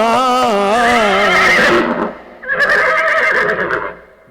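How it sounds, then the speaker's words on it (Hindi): Horses at a cultural stage performance give a loud, close whinny with a falling, wavering pitch, then a second, rougher neigh after a short pause. "घोड़ों पर हुए सवार वो दोनों"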